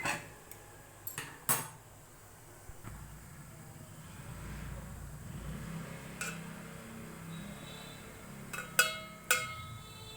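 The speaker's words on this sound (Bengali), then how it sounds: "এরপর আমি হাঁড়ির ঢাকনা খুলে দেখব ভাপা হলো কিনা।" A metal lid comes off a pot of steaming palm bhapa pitha, giving a few sharp metallic clinks and clatters, with quieter clanks later, over a faint background.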